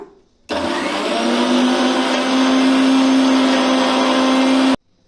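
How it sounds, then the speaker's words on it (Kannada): A kitchen mixer grinder jar runs with dish liquid and warm water inside, a loud steady whirring motor that starts abruptly, holds for about four seconds, then cuts off. "ಎರಡು ಮೂರು ರೌಂಡ್ ಮಿಕ್ಸಿಗೆ ಹಾಕ್ಕೊಳ್ಳೋಣ"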